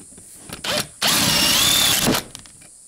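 A power tool bores out a chunk of wood from a rustic lamp body to make room for the bulb socket: a short whine, a pause, then a loud sustained drilling roar for about a second that cuts off abruptly.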